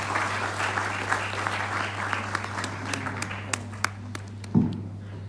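Conference audience at a spiritual sciences gathering applauds steadily, a dense wash of clapping with a few sharper claps standing out near the end, over a constant low hum.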